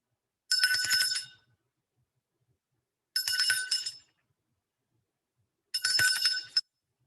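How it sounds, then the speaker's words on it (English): A ritual bell rung three times before casting a circle, each strike a bright ringing chime that fades over about a second, evenly spaced, close and clear with silence between. "we will ring the bell 3 times to clear our minds and our personal spaces before we cast circle"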